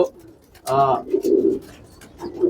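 Panting pigeons after a flight: a short burst of bird calling, then low cooing sounds nearby, moderately loud, with someone talking in the background.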